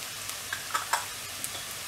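Onions frying in oil with mutton masala, garam masala, chilli powder and turmeric, a faint steady sizzle broken by a few light scrapes of stirring.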